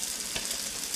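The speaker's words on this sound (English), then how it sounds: "going to cook them in the frying pan" Smash burgers frying in a non-stick frying pan, a steady close sizzle and crackle of fat with one brief louder pop partway through and no talking.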